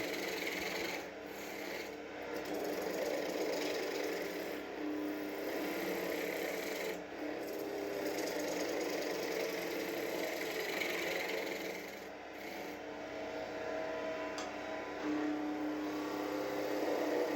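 A continuous rasping, shaving sound of a skew chisel cutting spinning wood on a lathe, shaping a birdhouse ornament body, steady and close, with a constant machine hum underneath.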